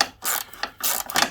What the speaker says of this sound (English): So I can use the ratchet.